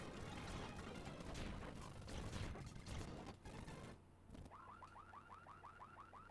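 A whooping, car-alarm-like electronic siren from the Pokemon Colosseum video game cycles in rapid repeated rising sweeps, starting abruptly after a loud busy stretch of game noise and continuing steadily to the end.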